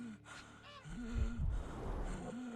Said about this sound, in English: He has trouble catching his breath.